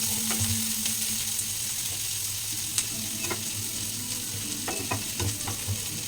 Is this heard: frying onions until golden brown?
yes